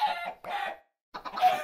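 A Minecraft chicken clucks in two short bursts, a pause, then a louder, busier run of clucks; close and clear with no talking over it.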